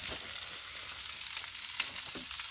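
Meat sizzles steadily as it is sautéed in a hot pan during Bengali home cooking, a close, continuous crackle of frying with no talking.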